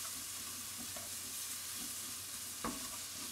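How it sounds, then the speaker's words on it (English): Curry puree fries quietly in a pan while a utensil stirs through it, a soft continuous sizzle with a single sharper scrape near the end. "I've cooked this for just a few minutes with that, stirring all the time so it doesn't just burn onto your pan."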